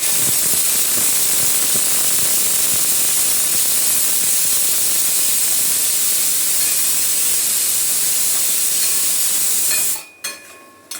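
A pressure cooker on a gas stove whistles, letting out a loud, steady rush of steam for about ten seconds before it cuts off abruptly, followed by a few faint clinks.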